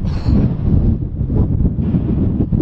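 Heavy wind buffets the microphone outdoors beside a Scania truck in England, a continuous low rumbling roar, steady and loud throughout.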